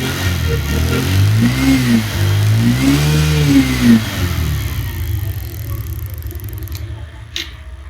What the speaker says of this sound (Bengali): বর্তমানে গাড়ি স্টার্টে আছে